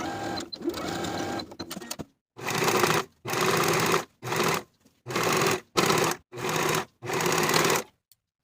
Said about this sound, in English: we'll sew closed the gap in the stitches with that same 1/2 inch seam allowance